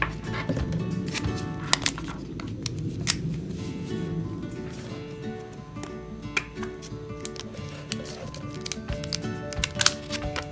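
Amazon Echo charger packaging is unwrapped close by with irregular crinkles, ticks and plastic clicks over a faint constant hum, and no one speaks.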